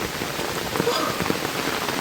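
Steady rain from Tropical Storm Zeta in Jamaica patters on a surface nearby, a dense continuous hiss with occasional louder drops, briefly mixed with faint voices.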